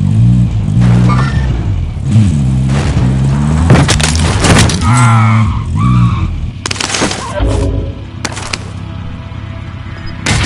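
A car driven in a military shooter video game, engine revving and tires skidding, loud and close with booms and bursts, while people talk over the action.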